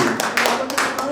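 Brief applause from a lecture audience after a talk on Ulysses S. Grant, a few scattered claps rising over a murmur of voices in a room, with talk continuing underneath.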